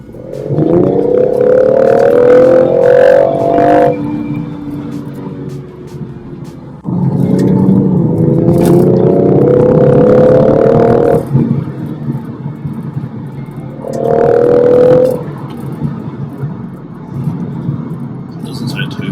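BMW M140i exhaust revving in wet weather outside, three loud rising bursts of engine revs separated by quieter idle, close to the car.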